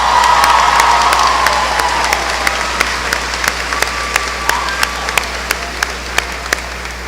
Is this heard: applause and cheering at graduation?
yes